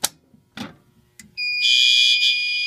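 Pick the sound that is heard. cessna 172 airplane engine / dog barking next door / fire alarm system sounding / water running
fire alarm system sounding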